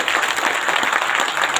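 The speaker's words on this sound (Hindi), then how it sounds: "एक बार ताली बजना चाहिए उनको।" Loud, close applause from an audience at a talk, a rapid continuous patter of many hands clapping over a short stretch, with no voices.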